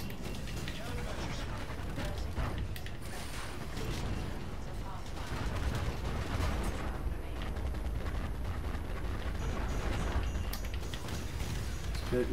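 Gunfire and explosions from the video game Call of Duty: Infinite Warfare fill a dense, continuous stream of combat noise, with steady shooting and booms running throughout beneath a player's talk.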